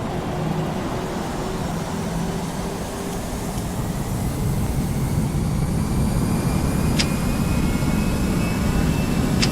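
Airliner jet engines spool up for takeoff in Flight Simulator X, a sustained loud roar and rumble with a rising whine, continuous and close, with faint tonal hums underneath.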